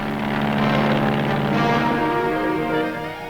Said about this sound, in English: pilotless planes rehearse their part in the operation